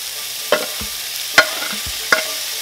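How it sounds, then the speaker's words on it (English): Shrimp returned to a hot pan for cilantro lime wraps, giving a faint sizzle under three distinct clinks of a utensil against the pan, spaced apart and close by, with no talking. "So now we're going to add our shrimp"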